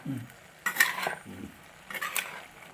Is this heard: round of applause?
no